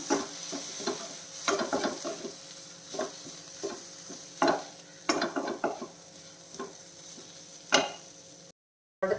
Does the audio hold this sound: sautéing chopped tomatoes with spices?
yes